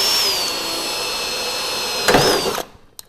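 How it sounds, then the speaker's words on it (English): A spot weld drill bores through a rusty car's rear tail panel, a high steady whine for about two seconds, then a louder grinding burst as the bit bites through before it winds down and stops. "we're going to start locating all of these guys and start drilling through"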